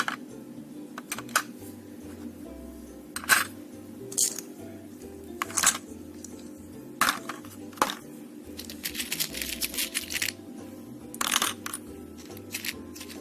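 Small metal board pins tumbling into an empty plastic Ferrero Rocher tray as office supplies are stored, giving a series of sharp, close clicks and rattles at irregular intervals over a steady low hum.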